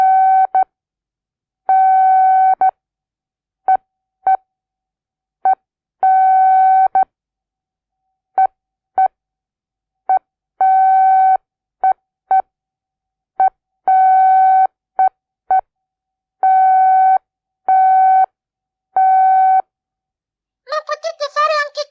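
Telephone-style keypad beeps spell out a name in Morse code, short and long dual tones in an irregular pattern, loud and close, ending in a brief burst of other sound.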